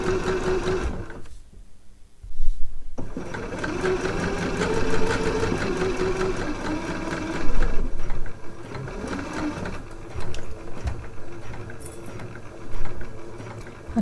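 A sewing machine stitches a dress bodice seam slowly around the underarm curve, with a steady whirring hum and brief pauses, close and fairly loud, its pace rising and easing between short stops.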